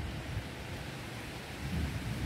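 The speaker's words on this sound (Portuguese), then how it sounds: "Esse barulho que vocês estão ouvindo, gente, é raio, não é vento não" Low thunder rumbling during a windy rainstorm on a cattle farm, a faint, steady roar of rain and wind with deeper rolls of thunder swelling toward the end, no voices.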